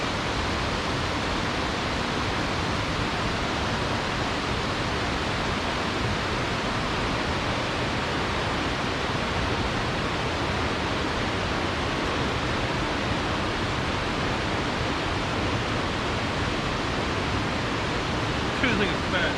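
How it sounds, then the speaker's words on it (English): A large waterfall in Tennessee rushes in a loud, constant roar of broadband noise that stays unchanging throughout, with someone speaking faintly beneath it. "Well, the waterfall's back there."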